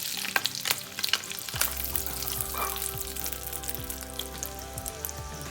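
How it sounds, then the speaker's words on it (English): Sausages sauteing in a pan give a close, bright crackling sizzle with busy pops, and a low hum sits underneath. "Then sausages. Saute around 30 seconds."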